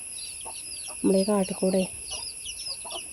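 Soft chickens clucking in a short burst, close by, while a person speaks over them.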